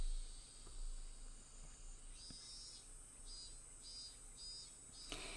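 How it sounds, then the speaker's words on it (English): Cicadas in Higurashi When They Cry, a faint, steady high-pitched drone with a few pulsing chirps, heard alone in a quiet early-afternoon scene. "it was still early enough for the cicadas to be crying"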